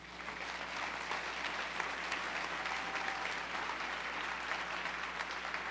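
A church congregation applauds together during a Sunday service, with a sustained, even burst of clapping from many hands filling the room for several seconds.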